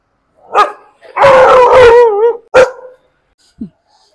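A dog on a night street barks in a few sharp bursts, then lets out a long, wavering howl, with a short yip near the end; loud and close, with no talking.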